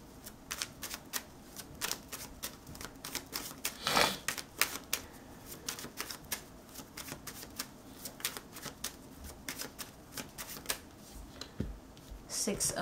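Tarot cards shuffled and dealt for a pick-a-card reading: a long run of crisp, rapid flicks and riffles, close and fairly loud, with a brief bigger snap near the middle and no talking.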